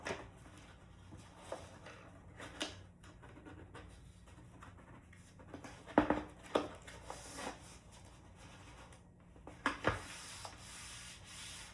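An Apple trade-in cardboard box for an iPad is folded shut with its sticky edge. Quiet scraping and rustling of cardboard plays close up, with a few sharper crinkles and taps among the faint rubbing.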